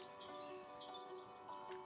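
Starling song, faint and distant, made of thin chirps and whistled tweets repeated over a steady background hiss.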